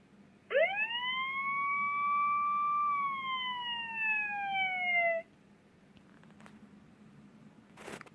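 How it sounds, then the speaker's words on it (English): A Dash robot plays a fire siren sound, a loud electronic tone that sweeps up sharply and holds before falling for about five seconds, followed by quiet room noise and a brief clatter. "he should make a fire siren"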